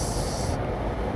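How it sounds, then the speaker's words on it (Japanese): Train pulling in near Saitama Super Arena, a close, loud rumbling roar with a high hiss that cuts off partway, heard alone. "電車来てます"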